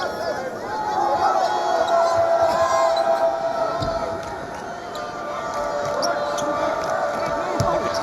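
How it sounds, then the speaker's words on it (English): A basketball arena crowd murmurs and settles in during a Florida State vs. North Carolina championship game, with a steady hubbub, scattered shouts and ball bounces beneath a commentator's voice. "The crowd is just settling in as well."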